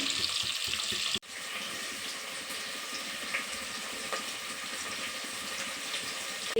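Chopped onions and green chillies frying in oil give a steady broadband hiss that holds at an even level throughout, with a brief dip and a faint click early on and no voices.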